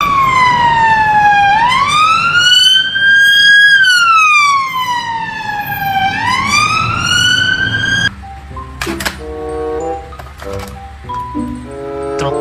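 A police car siren wails loud and close in long rising and falling sweeps, then gives way to a jumble of shorter tonal electronic sounds.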